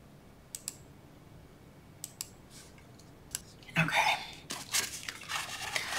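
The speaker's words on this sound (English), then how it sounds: "So let me type that in." Keyboard typing as measurements for scored accordion folio panels are entered, heard as a few scattered soft clicks early on, then a denser burst of rustling, clattering key activity toward the end.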